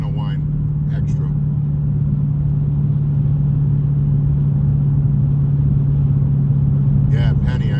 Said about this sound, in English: As long as you're in manual mode, it's always going to whine extra.